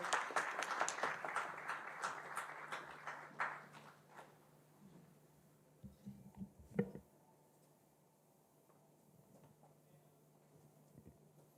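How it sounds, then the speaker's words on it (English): A round of applause from an HR conclave audience greeting a speaker, starting fairly strong and fading over about four seconds into a few scattered claps and faint room noise. "Let's give him a big round of applause"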